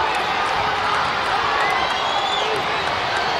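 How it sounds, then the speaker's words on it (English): High school football crowd at Aloha Stadium in a Kahuku versus St. Louis game, a loud continuous roar of cheering fans filling the space, with a voice talking over it. "The crowd getting into it now. It's loud here at Aloha Stadium."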